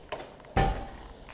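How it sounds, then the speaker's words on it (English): A door inside a garage opens with a faint click, then a single solid thump. The sound is close and stands alone against quiet room noise. "Open this door because I actually got the garage door closed."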